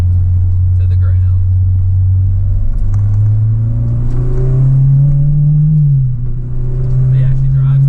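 A car with a recently fixed tensioner pulley and a pinhole in the spare tire well drives along a road, its engine a loud, close, steady hum that rises in pitch and then drops back.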